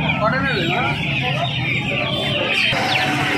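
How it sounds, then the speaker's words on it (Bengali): A Burma chicken clucks at a busy hen market, its repeated wavering clucks close and loud over crowd chatter and other birds in the background. "তো এখানে এক পিস বার্মা মুরগি রয়েছে দেখতে পাচ্ছ"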